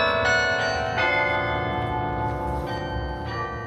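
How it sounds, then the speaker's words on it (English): Beaumont Tower's carillon bells at Michigan State University ring out the MSU Shadows hymn across campus, sustained ringing tones overlapping in a slow melody at a distance. "MSU Shadows, the university hymn, played out through the bell tower"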